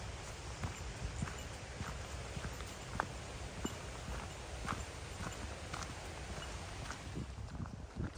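Horses in a barn beside a hiking trail near Taggart Lake in Grand Teton, their hooves clip-clopping in scattered soft steps over steady outdoor background noise.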